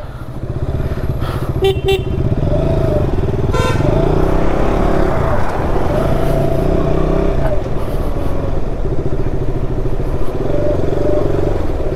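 KTM motorcycle engine running steadily on the busy Shiradi ghat road, with traffic and a few car horns honking around it, loud and continuous throughout.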